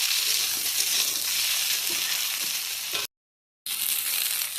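Steady hiss and crackle of vegetables frying in a hot pan, continuous and close, with a brief moment of silence before the sizzling resumes.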